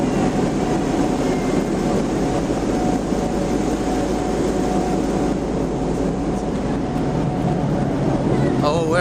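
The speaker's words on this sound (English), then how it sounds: "Thought I'd see what the exhaust sounded like" A steady, loud low rumble of engine exhaust from a historic power station in Palmerston North drones continuously without change.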